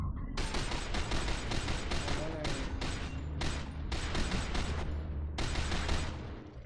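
Rapid automatic shotgun blasts from the FEAR 2: Project Origin game, fired in loud repeated bursts across the whole stretch, with a voice talking underneath.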